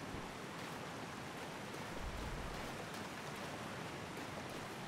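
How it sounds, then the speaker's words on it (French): A large waterfall in Elden Ring gives off a steady, dense rushing roar, constant throughout with no breaks or talk. "il y a une grosse cascade de l'autre côté"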